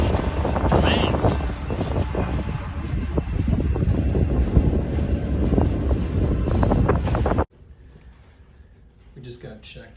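A train rolls through the small mountain town of Skykomish in a loud, steady rumble with wind buffeting, then cuts off abruptly to quiet near the end.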